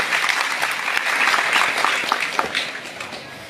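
An audience breaks into sustained applause for a speaker at a gathering, many hands clapping densely and loudly, tapering slightly toward the end, with no talking over it.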